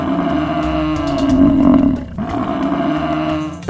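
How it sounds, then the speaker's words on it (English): A bison gives a deep, loud, rumbling roar-like call, close and sustained for a few seconds before easing off, heard alone with no talking. "Bison."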